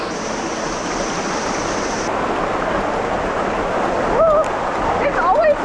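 Rushing water roars steadily, a waterfall in Mexico heard up close while swimming toward it, a dense constant wash with a few brief splashy sounds near the end.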